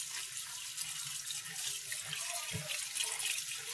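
Tap water runs steadily into a sink as pasta is rinsed, a soft continuous hiss with a small splash partway through.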